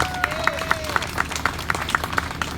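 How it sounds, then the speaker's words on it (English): A crowd at a food pantry celebration in Greenville claps along at a steady rhythm, roughly four claps per second, moderately loud over a soft background murmur and a faint sustained tone. "Let's give Hearty Helpings a round of applause."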